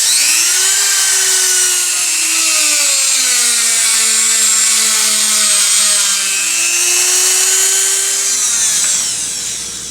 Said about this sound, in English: I'm going to take an air hose and I'm going to blow all of this clean.